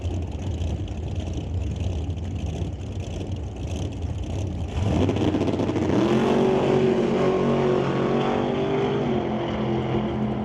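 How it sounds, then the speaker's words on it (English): A Chevrolet Camaro drag racing car makes a pass down the strip at a drag racing event, a loud sustained engine roar that surges and rises in pitch partway through, then holds as the car runs toward the top end. "So the Total Dairy Solutions Camaro on a pass to the top end"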